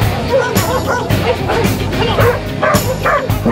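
Dogs bark and yip at a dog sports competition final, sharp close barks repeating in bursts over a steady crowd murmur and background talk.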